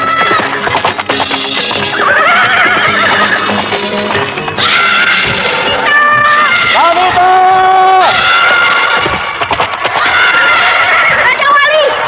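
A frightened horse neighs and whinnies loudly in a dramatized radio play, long shrill calls repeating over a dense mix of voices and effects.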